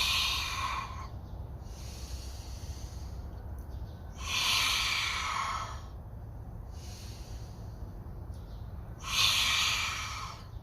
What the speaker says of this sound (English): Exhale through the mouth softly.